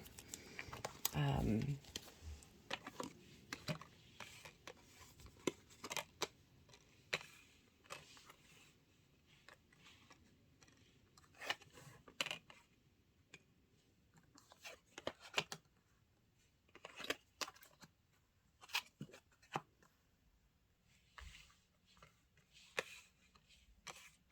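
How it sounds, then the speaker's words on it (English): Tarot cards shuffled by hand for a tarot reading, giving a long run of soft, irregular riffling and tapping bursts at close range, with a louder flurry near the start and quieter scattered handling after. "just going to shuffle for a little bit longer because I feel that there are more cards that want to come through"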